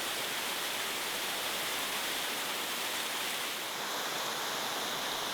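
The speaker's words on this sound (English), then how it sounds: "you come back down this pleasant wooded valley with its own little waterfall" A little waterfall in a wooded valley rushes steadily, a dense, even wash of falling water that stays constant throughout, close and unbroken, with no voices.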